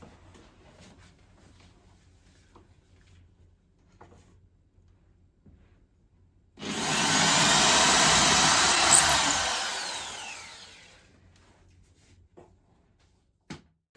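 A power drill boring pilot holes for a model railway layout whirs loudly for about four seconds, ramping up and then winding down, between quiet stretches with faint handling clicks.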